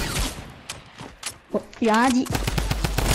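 Gunfire in a video game sniper fight, a few sharp shots and rapid bursts scattered between loud, close voices talking over the action.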